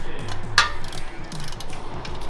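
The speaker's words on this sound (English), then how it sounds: "first step is we got our 5/32 snap-on tool" A 5/32 Snap-on ratchet works on battery cover screws of a 2019 Harley-Davidson, giving close, sharp clicking and a quick metallic snap, with a low hum underneath.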